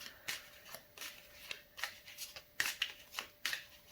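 Tarot cards being shuffled and drawn give quick, soft riffling snaps and flicks in irregular bursts, close but faint, with no talk.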